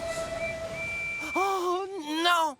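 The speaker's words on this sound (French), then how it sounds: "Vite, signalons notre présence en sifflant." A cartoon steam engine whistle sounds in a children's animated train show, starting as a thin steady tone and then swelling into a loud, wavering, multi-toned whistle before cutting off.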